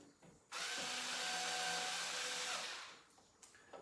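Power drill driving screws into a floor stand pole, a single sustained whir of about two seconds that starts abruptly and winds down, close but fairly quiet, with small handling noises before and after.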